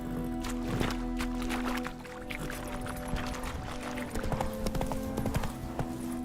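Horse hooves clip-clop at a gallop in The Witcher 3, a rapid, even beat close by, with a brief snort and some faint ambient sound around the hoofbeats.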